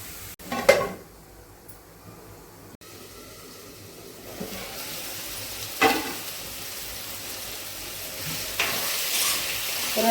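Bottle gourd fries in hot oil for a Telugu-style sorakaya curry, a steady soft sizzle broken by a few sharp scrapes and clinks of a stirring spoon against the pan, with no talking.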